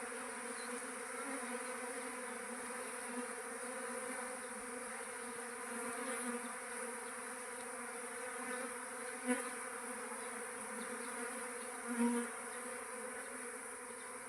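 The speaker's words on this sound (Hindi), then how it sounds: "कितना सुंदर नज़ारा है दोस्तों ये मधुमक्खियों का।" A honey bee swarm drones in a dense, steady buzz outdoors while being caught, a continuous close hum with no talking.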